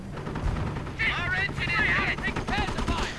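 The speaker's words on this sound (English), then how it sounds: "Taking heavy fire from the Greyhound and the Rifleman now with BARs." BAR rifles and an MG42 machine gun crackle in a WWII video game battle, with rapid bursts and distant booms running beneath an excited commentator's continuous talk.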